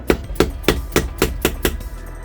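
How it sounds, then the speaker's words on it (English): Eight dull, evenly spaced taps from a dead blow hammer on a Reliant Regal Supervan 3 engine during a rebuild, each a muted thud striking at a steady rhythm, close by with no talking. "Get a dead blow hammer so it doesn't damage it."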